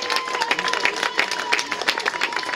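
Cheering and clapping from the crowd at a rugby league international between Germany and Belgium, a dense, steady roar of applause heard at a distance.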